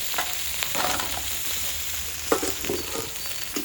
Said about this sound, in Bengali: ভালো করে মাছগুলো ভেজে নিলাম